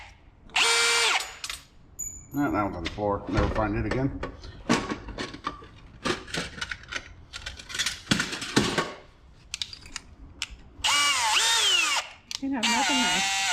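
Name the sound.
power drill drilling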